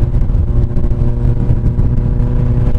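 A Honda CB 1000R motorcycle with an exhaust-only setup idles and revs loudly and close, its engine producing a deep, steady rumble with slight fluctuations throughout.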